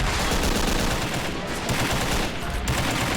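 A war video game's no-man's-land battle, with both armies charging, produces dense, continuous gunfire: overlapping rifle and machine-gun bursts form a loud, unbroken roar for the whole stretch.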